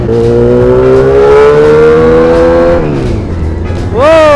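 Kawasaki Z800 motorcycle fitted with an SC Project exhaust revs loudly up through a long climbing pitch, drops off, then snaps sharply upward again at close range.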